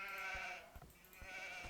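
Sheep bleat in the Age of Empires video game, two or three soft, wavering cries in quick succession, faint and alone over a low game background.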